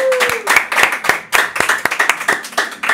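Studio audience on a talk show clapping in sharp, close individual claps that blend into brisk applause, loud and uneven, with no talking.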